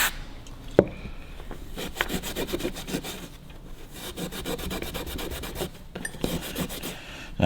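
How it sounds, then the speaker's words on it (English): A wire brush scrubs the serrations of a front hub on a Harley-Davidson WLA motorcycle, a close, quiet series of rough rasping strokes in uneven rhythm with no talk. "just get yourself a wire brush and just clean them out"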